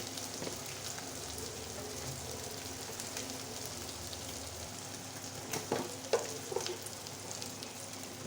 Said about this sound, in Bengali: ছোটো চিংড়ি মাছটা একটু বেশি ভাজতে হয়